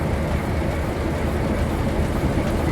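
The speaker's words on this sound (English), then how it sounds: "It's a long train we got here." A long model train with gondolas loaded with ballast runs on a Pennsylvania & Berwind layout, giving a steady, close rumble and clatter with no talk.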